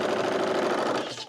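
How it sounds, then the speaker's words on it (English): Serger overlocker running steadily through a fabric seam on a tank dress, a close, dense mechanical whir that holds constant for over a second before cutting off. "I'm serging this, yes. I am going to serge this twice."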